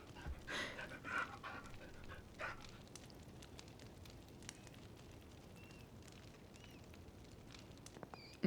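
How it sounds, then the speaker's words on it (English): A dog pants in the medieval adventure game Pentiment, quick soft breaths close by for the first few seconds, then fading into a faint steady ambient hiss with small clicks. "but we can pet the dog"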